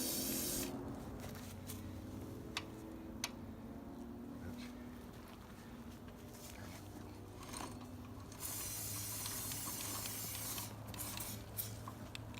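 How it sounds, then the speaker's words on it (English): Lubricant sprayed from an aerosol can onto a go-kart wheel hub before a new wheel and tire are fitted, a faint hissing spray under steady low background rumble, with small clicks. "spray a little bit of lubrication on this"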